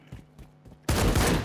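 A shotgun blast in a one-on-one shooter game, a single loud broadband report striking suddenly after a stretch of quiet thumping footsteps and holding steady to the end.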